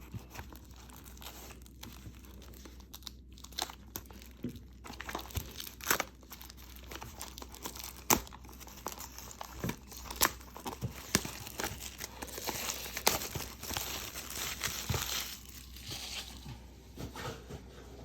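Packaging of a Star Wars Unlimited card display box being opened, with irregular crinkling, tearing and crackling of plastic wrap and cardboard in bursts, close by with no talk.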